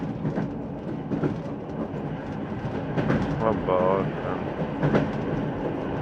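A train in the adventure game Tajne Akta: Tunguska gives off a continuous rumbling rail noise with clattering bursts, and a voice speaks briefly over it.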